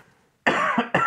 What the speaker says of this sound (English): Go ahead and cough.